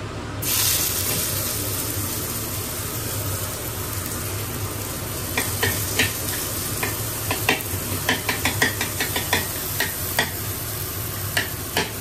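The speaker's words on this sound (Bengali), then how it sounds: "তেল গরম হয়ে গেছে, এর মধ্যে আমি দিয়ে দেবো পেঁয়াজ কুচি" Chopped onion dropped into hot oil in a home kitchen, a steady broad sizzle throughout with a burst of crackling and spattering pops in the second half, close and fairly loud with no talking.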